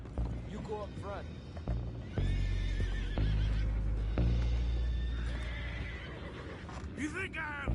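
Horses in the Red Dead Redemption 2 video game whinny and neigh repeatedly amid hoof clops and creaking mechanisms, with several loud, close calls and a low rumbling bed of game sound.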